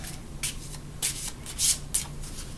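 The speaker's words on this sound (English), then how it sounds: "I'm going to shuffle." Vedic tarot cards shuffled by hand give four quick riffling bursts of papery flutter, close and crisp, with short pauses between them.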